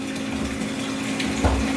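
A pump churns and aerates new salt water in a reef tank's mixing tank, a steady watery rush and hum with a slight gurgle near the end and no talking.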